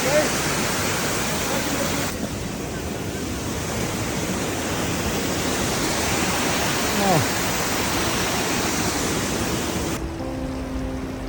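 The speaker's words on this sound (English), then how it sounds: "look at the waterfalls" A waterfall on a Himalayan mountain trek, producing a continuous broadband rushing roar that stays steady and dense throughout, with faint wind buffeting at the microphone.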